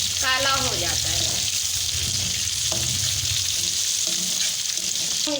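Cumin seeds crackle and sizzle in hot oil while masala bhindi cooks, a steady dense frying hiss throughout with brief voice fragments and faint kitchen clatter over it.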